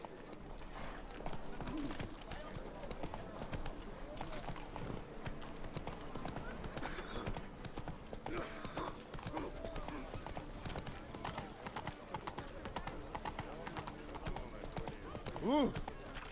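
Roach, a horse in a video game, clip-clops at a run in a long steady rhythm under game music, with a brief whinny near the end and someone speaking over it.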